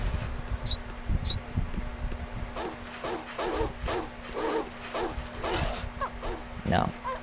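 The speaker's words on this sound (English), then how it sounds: "these dogs are kicking my ass" Dogs attacking in the horror game Slender: The Arrival: a series of snarling barks and yips at a steady pace over a low constant hum, mixed with a player's talk.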